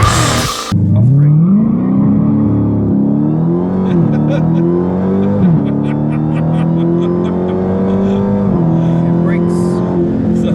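A Dodge Challenger Hellcat engine revs hard and loud at the line, pitch climbing and falling in repeated surges as it launches, with brief voices at the very start.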